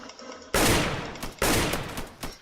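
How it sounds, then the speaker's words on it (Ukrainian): Machine gun fire in a first-person shooter video game, loud close bursts of rapid shots starting abruptly, with a second burst and a short final volley, no talking over them. "з кулемета стріляю"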